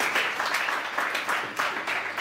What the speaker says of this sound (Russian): Давайте хлоп-хлоп и погнали.